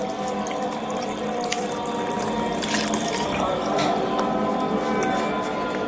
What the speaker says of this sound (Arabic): واجيب السوائل عندي انزل بيها على الرز